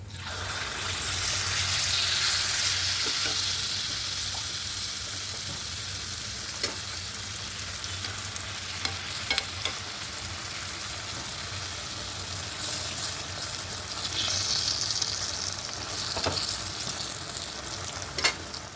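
Palm-fruit malpua batter frying in a pan of hot oil gives a steady close sizzle and bubbling, with occasional clicks and scraping of a utensil, alone with no voices.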